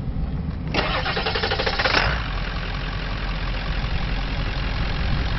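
The 7.3-liter diesel engine of a 2000 Ford F450 truck cranks briefly, catches, and settles into a loud, rough, clattering idle nearby.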